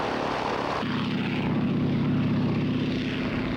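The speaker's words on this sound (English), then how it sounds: "gave his father a gift certificate for a ride in his open cockpit biplane from World War II" An open-cockpit World War II biplane's propeller engine drones steadily and loudly, a close, throbbing roar that shifts to a deeper pitch early on as it runs up for takeoff, with no voices.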